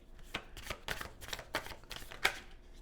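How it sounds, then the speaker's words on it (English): Animal spirit oracle cards are shuffled by hand in a quiet room, a series of soft papery riffles and flutters in quick bursts. "I'm going to pull an animal spirit card real quickly."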